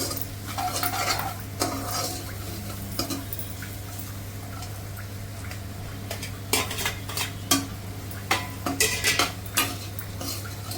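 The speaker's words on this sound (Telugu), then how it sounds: "ఇప్పుడు పన్నీర్ ముక్కలు వేసుకోవాలి." Paneer pieces are stirred into fried rice in a pan, with repeated spoon scrapes and clinks over a low steady hum and a faint sizzle. The strokes grow sharper and more frequent toward the end.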